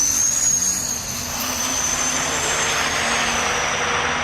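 A diesel truck engine roars loud and steady on the rollers at a drag race, a continuous high whining drone that holds nearly level throughout.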